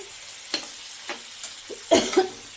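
A spice paste of cashew and poppy seed being stir-fried in a pan for a bhetki fish malaikari, with a low sizzle under a few distinct scraping strokes of the spoon, the last ones louder.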